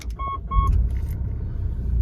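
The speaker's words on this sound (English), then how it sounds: "Start the vehicle up now, so obviously put on the brake" A 2017 Mitsubishi Pajero GLX LWB 4x4 starts up with a double warning chime, a quick crank and an engine catching into a steady low idle rumble, heard close from inside the cabin.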